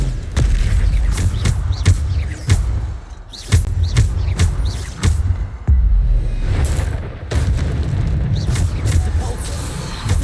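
Bombarda spell blasts from the video game Hogwarts Legacy, a run of loud, sharp booming explosions with deep rumbling tails, firing in irregular bursts over continuous low-end battle noise.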